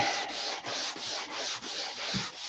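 Rhythmic hand sanding with a sanding block: a coarse scratching rasp repeats in even back-and-forth strokes, about four per second, close and steady with no talking.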